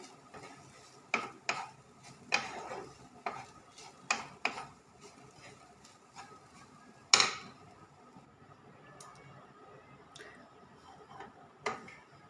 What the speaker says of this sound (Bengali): আমি ঘি দিয়ে অল্প একটু নেড়ে নেব, মিনিট 2 মতো নেড়ে নেব